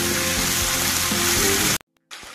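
Tomato and onion fry in a pan for an Assamese egg dum, giving a loud, steady crackling sizzle that cuts off abruptly and then returns faintly.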